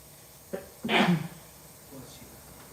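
A single sharp sneeze bursts out, loud and close, preceded by a brief intake of breath, with quiet room noise around it.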